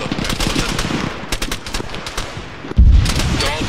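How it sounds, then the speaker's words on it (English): Suppressing gunfire in the Arma 3 video game, heard as loud rapid bursts of automatic weapon fire crackling in quick succession, with a heavier thump near the end. "You can put some suppressing fire on it."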